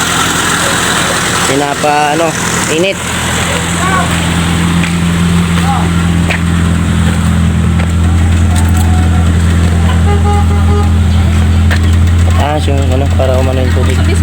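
A cousin's car engine idles steadily close by with a low, constant hum throughout, while people talk over it at intervals.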